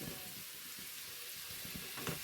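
Potato and papaya pieces fry quietly in a pan, a faint steady sizzle with soft bubbling pops throughout.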